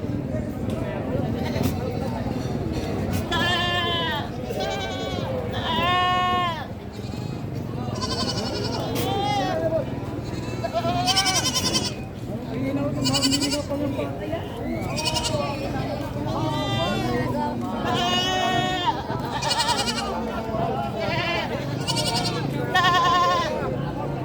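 Many goats bleating repeatedly in a loud, overlapping chorus at a goat market, with a steady hum of background noise throughout.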